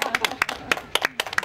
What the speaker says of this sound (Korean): 박수 한번 쳐줘야겠네